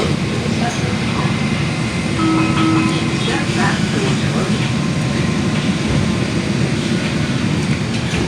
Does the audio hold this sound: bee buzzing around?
no